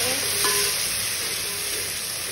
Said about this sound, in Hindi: अब इसे भी हम अच्छे से फ्राई करें।